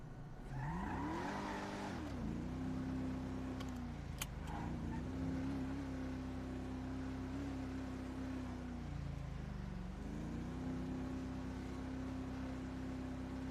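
A car engine in a racing video game revs and holds steady, its tone rising and dipping through gear changes over a continuous drone, with a brief tire squeal near the start.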